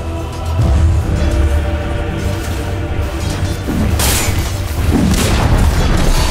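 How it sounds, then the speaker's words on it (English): A tower collapsing in the Dota 2 video game, heavy booming explosions and crashing debris that stay loud throughout, with sharper bursts of impact near the end. "Dire's top tower has fallen."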